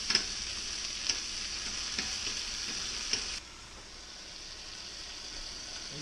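Lamb frying in a pan with smoked pepper, a bright steady sizzle with a few soft clicks, which drops suddenly to a quieter hiss partway through.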